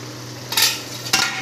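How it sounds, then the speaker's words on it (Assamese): A fish curry simmers and bubbles in a pan with a constant low sizzle, cut by two quick, louder scraping stirs of a spoon against the metal. "আৰু এতিয়া এইখিনি ধুনীয়াকৈ উতলি আছে।"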